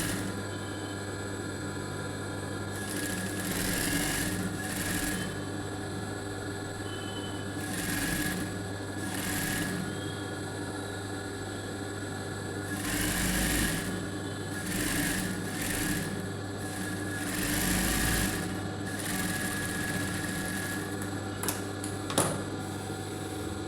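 Sewing machine stitching a blouse lining, running in several bursts of steady whirring and needle chatter, separated by pauses over a constant background hum.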